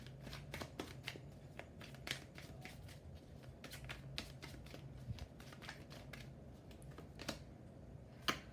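Tarot cards being shuffled by hand, a run of soft, close riffling flicks and taps repeating steadily, faint and without talk.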